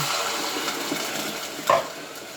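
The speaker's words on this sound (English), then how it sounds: "Here's 2 cups of water going in." Water pours into a pot of cooking fideo in a home kitchen, a steady close splashing and bubbling with a brief louder splash near the end.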